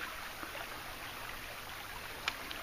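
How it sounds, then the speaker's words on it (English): Small creek in the Allatoona Lake area of Georgia flowing steadily, a constant soft rush and trickle of water outdoors with no talking. "got me and Bob, and we're playing around in the little creek here."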